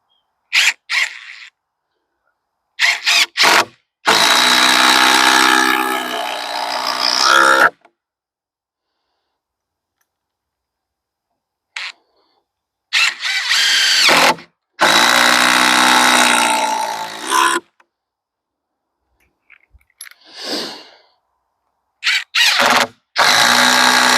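A power drill drives timber lock screws into wood for a slab wood rack, several loud whining bursts of a few seconds each, separated by silence and short clicks.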